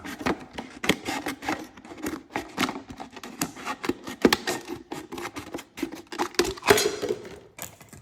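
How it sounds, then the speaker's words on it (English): Scissors snip a slit into a plastic bottle for a homemade fly and mosquito trap, giving a close series of crisp, irregular cutting crunches and plastic scrapes. "Now I'm gonna finish off the slit by just sticking the scissors in there."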